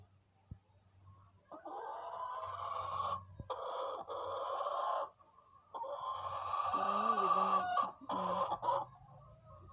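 A hen clucks repeatedly in close, drawn-out bursts with short pauses, some calls rising into a strained squawk.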